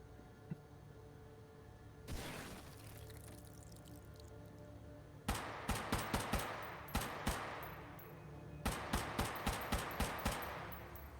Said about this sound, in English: Who needs a laser or sights? I got incendiary tracers.